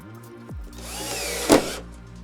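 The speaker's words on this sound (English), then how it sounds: "Use the longer screws, the tech screws they're called, to screw into the inner skin of the van." Power drill driving long tech screws into the inner metal skin of a van while fitting plywood racking, a close motor whine rising in pitch with a sharp bite midway as the screw seats.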